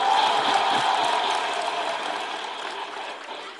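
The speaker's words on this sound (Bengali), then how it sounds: "ইমোশনসের জন্য বটে জোরে হাততালি।" An audience at Dr. Yunus's speech claps hard in a thick, continuous burst that starts strong and slowly tapers off over a few seconds.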